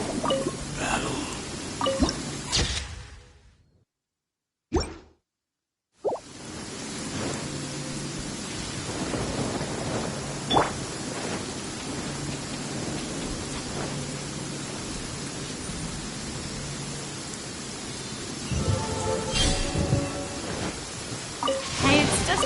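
Steady rain with rolling thunder from the Genshin Impact video game fills the scene as a continuous broadband wash, broken by a short silent gap, with faint crackles and rumbles and occasional speech beneath.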